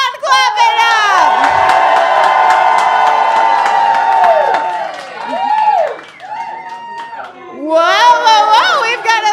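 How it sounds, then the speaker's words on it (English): Loud cheering and whooping from a wrestling-event audience fills most of the stretch, swelling then dipping, with clapping mixed in and a voice speaking over the end. "clap it up."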